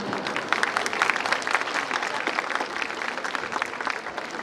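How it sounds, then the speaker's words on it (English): Audience at a school annual day claps steadily throughout, with dense, sustained applause from a large crowd. "Thank you very much for clapping."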